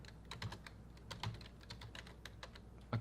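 Java code typed on a computer keyboard, a sparse run of soft, close key clicks with uneven gaps and a slightly heavier keystroke at the end, no talking.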